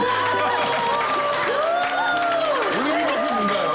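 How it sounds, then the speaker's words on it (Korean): Church audience cheering and clapping together in an 'Olympic clap', a loud, continuous crowd roar with applause, while a voice speaks over it throughout. "특별한 박수, 환호성과 함께 올림픽 박수"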